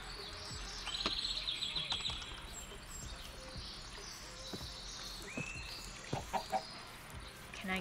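Chickens cluck intermittently in a blocky sandbox video game world, set against a constant chirping cricket ambience, with a few short clucks standing out near the end.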